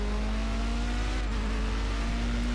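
Ginetta GT3 race car in the Project Cars video game racing at Watkins Glen, its aggressive engine holding a loud, steady droning tone that shifts only slightly in pitch.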